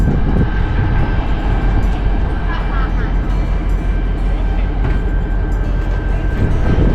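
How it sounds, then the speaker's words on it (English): A loud, steady rumble of a train rolling past through the town of Skagway, Alaska, its engine droning, with voices faintly audible beneath the noise. "now there's a train trying to get by"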